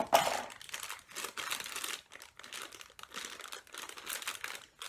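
Wrapping paper crinkles and rustles as a Frozen 2 mystery mini toy is unwrapped, close and crisp in several bursts separated by short pauses, with no talking.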